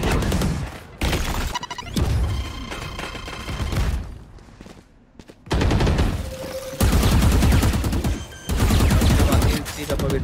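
Gunfire from the video game Valorant, heard during a tournament match, comes as bursts of rapid shots and bangs with short gaps between them. A caster speaks over the action throughout.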